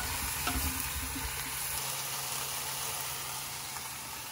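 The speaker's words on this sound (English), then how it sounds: "So I'm tossing the zucchinis just to brown them a little bit" Zucchini browning in a hot pan while being tossed, a steady close sizzle of frying with a few soft scraping stirs near the start and no voices.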